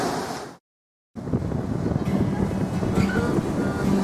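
Strong wind roars and buffets at sea during an ocean crossing under sail, with a brief total dropout early, then steady rushing wind noise and faint creaks.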